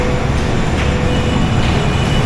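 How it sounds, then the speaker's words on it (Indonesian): A cable car in Caracas, Venezuela runs with a loud, continuous mechanical rumble and rushing noise, steady throughout and close by, with no voices. "Ini kabel karnya Venezuela"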